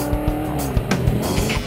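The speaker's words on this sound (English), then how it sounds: "A 2004 Mustang, fully set up race car." A 2004 Ford Mustang fully set-up race car at NOLA Motorsports Park, engine roaring close with repeated sharp tire squeals and skidding in quick bursts.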